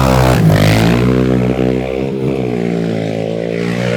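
Midsize ATV quad drag racing, a torquey engine held loud and near in third gear, its harmonic drone sliding downward as it passes and fades slightly toward the end.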